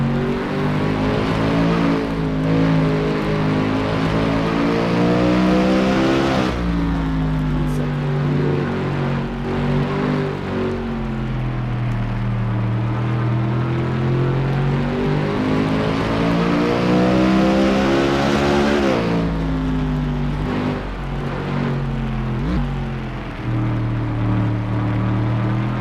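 Onboard with the number 45 stock car on the Charlotte Roval in a sim racing game, the engine roars loud and constant, pitch climbing through upshifts and sagging under braking for turns, with no voices over it.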